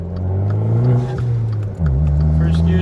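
A Dodge Dart on a test drive accelerating nearby, its engine rising in pitch, dipping briefly at a gear change, then climbing again, with a voice talking over the engine.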